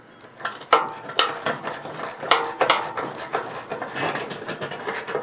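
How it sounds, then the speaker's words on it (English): Ratchet wrench clicking as it tightens a bolt while disassembling the radiator support of a 1956 Ford Fairlane, a close, loud run of irregular mechanical clicks and bursts with no talking. "as it gets tight, take your ratchet and tighten it back up"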